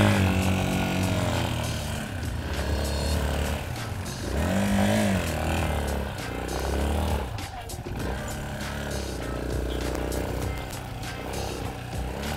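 An off-road motorcycle engine drones and revs continuously close by, rising and falling with the throttle over rough ground, while people talk over it.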